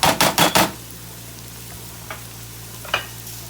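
Onions simmering in a pan with mustard and vinegar: a quick run of four scraping stirs up front, then a quiet low hum with a couple of faint isolated clicks.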